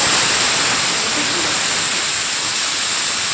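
Marinated deshi tyara fish hits hot oil tempered with a dried red chilli, producing a loud, continuous sizzle and hiss that holds steady throughout.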